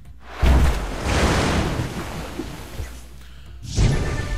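Waterfall attack effect from the Pokemon TCG Online card game, a loud rushing whoosh of water that surges, holds as a broad wash, dips, then swells again in a second burst near the end, with no talk.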